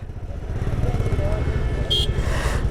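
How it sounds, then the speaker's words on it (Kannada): Several motorcycles ride behind on a road trip toward Kolli Hills, a steady low engine drone with wind rush, a brief high beep partway through, and voices talking over it. "ಎಷ್ಟೊಂದು ಬೈಕ್ಗಳು ನಮ್ಮ ಹಿಂದೆನೇ ಇದ್ದಾವೆ"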